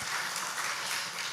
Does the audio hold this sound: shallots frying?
no